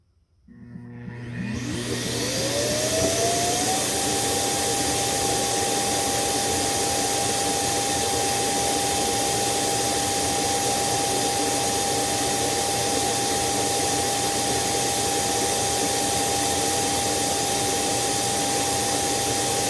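A Laresar robot vacuum cleaner's motor spins up, rising in pitch over the first few seconds. It then holds a loud, steady whine and hum with no pauses.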